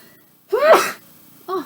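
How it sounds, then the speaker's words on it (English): A single sharp sneeze bursts out close to the mic, a short breathy gasp following about a second later, with near silence before it. "I just sneezed"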